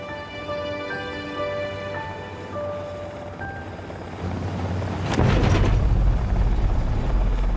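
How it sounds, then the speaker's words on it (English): A helicopter's steady rotor drone and engine whine, growing louder and rougher as it passes close overhead above mountains, with a broad rumbling roar toward the end. "as the helicopter makes its way over the mountains"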